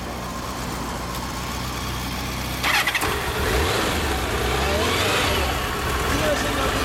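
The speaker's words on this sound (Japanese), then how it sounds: "エンジン音聞かせてもらえる？" A 2007 Kawasaki Zephyr 750 Final Edition motorcycle engine starts with a short burst, then runs at a steady, close idle with a rough low rumble until the end.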